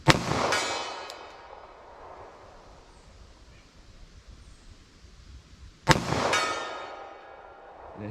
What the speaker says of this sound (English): And it hits that steel quite hard.